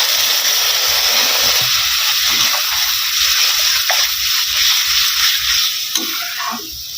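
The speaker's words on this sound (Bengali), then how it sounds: "এবারে আমি দিয়ে দিব নারকেলের দুধ।" Coconut milk poured into a simmering vegetable curry after the spiced tomato masala has been fried until the oil separates, a steady bubbling sizzle with liquid pouring over it, close and continuous.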